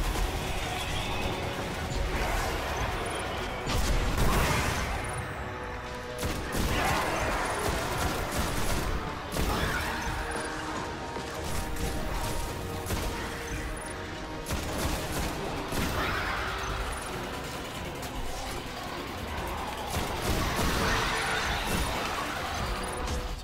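Grenade blasts and heavy gunfire in the video game Destiny, a dense, loud barrage of booms and crackling that keeps going with hardly a break.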